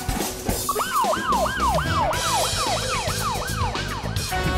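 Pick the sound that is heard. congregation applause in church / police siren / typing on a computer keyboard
police siren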